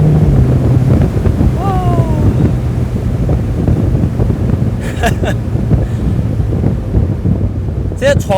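Strong wind buffets and rushes continuously past an open-top Ferrari Portofino M convertible on the move in hot, humid Langkawi, a loud steady roar over the microphone with a few faint brief tones mixed in.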